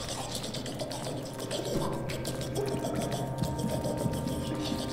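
A door mechanism in the video game Hollow Knight grinds open with steady ratcheting, clicking gear sounds over a watery, dripping ambience, no talking.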